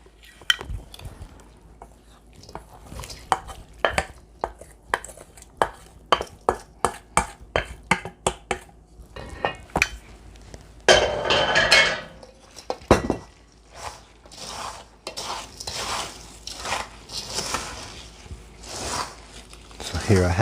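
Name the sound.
folding stuffing mixture together in a bowl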